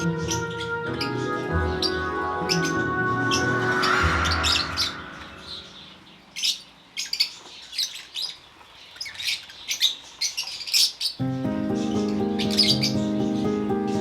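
African lovebirds chirp and squawk in a breeding setup, with sharp, rapid calls over a tonal background hum that drops away midway and returns near the end; the birds sound close and fairly loud.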